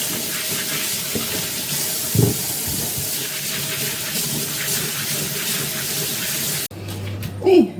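Vegetables are scrubbed with a sponge under a running kitchen tap, a steady close rush of water with a few soft knocks, then the flow changes near the end.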